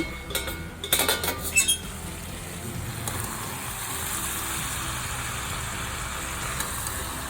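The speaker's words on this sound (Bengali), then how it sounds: "প্রায় 5 মিনিট পর আমি ঢাকাটা খুলে দিচ্ছি" The lid comes off a pan of small kachki fish cooking with vegetables. A quick burst of metallic clatter and scraping is followed by a steady, soft sizzle and hiss from the pan.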